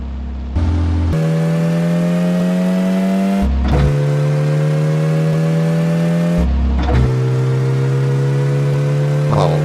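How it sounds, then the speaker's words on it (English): Ferrari sports car engine revving hard in three separate bursts, each climbing in pitch and holding a loud, steady high-rev drone, with brief drops back toward idle between them; close and loud with no talk over it. "Taking a cruise in a Ferrari is just like it's straight out from Cruising USA."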